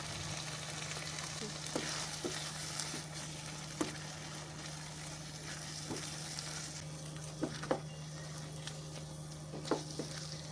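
Prawns added to a pan of yogurt gravy for doi chingri, hissing in a steady soft sizzle with occasional pops and stirring clinks, fairly quiet and without talk.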